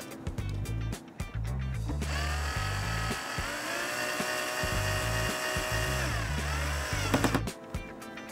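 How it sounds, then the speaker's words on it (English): A power drill drives screws into plastic LED tail lights on a Jeep JK, whirring in short bursts at first, then one long steady run that winds down, with clicks and handling noises between. "I take my drill, put it in the tighten position, and drill these, screw them back in."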